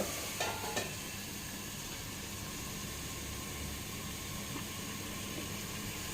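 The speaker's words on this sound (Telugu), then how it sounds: "ఇప్పుడు మనకి బాగా ఫ్రై అవ్వాలి లోపల" Small fish (nettallu) fry in a pan with a steady, even sizzle throughout, and a couple of faint clicks early on.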